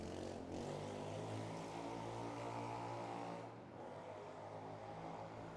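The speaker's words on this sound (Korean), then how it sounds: "오토바이가 굉음을 내며 달려갑니다." A loud motorcycle engine drones steadily and close by as it roars past, holding a low, even roar for several seconds with a slight dip near the end.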